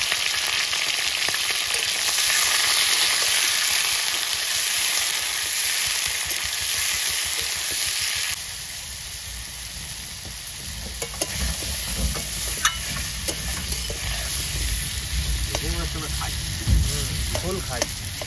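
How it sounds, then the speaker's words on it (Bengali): Freshly caught freshwater prawns fry in hot oil in a pan, giving a loud continuous sizzle with occasional stirring scrapes that settles slightly quieter partway through. "এবার চিংড়ি মাছগুলো ভেজে নিই।"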